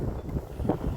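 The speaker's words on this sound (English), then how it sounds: "it's windy as well" Wind buffets the microphone in a steady low rumble with gusty swells, no voices.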